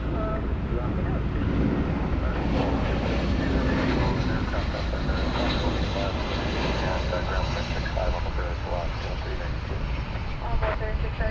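An airliner departs DFW Airport with a continuous broad engine roar close by, steady and loud throughout, with faint chatter mixed in underneath.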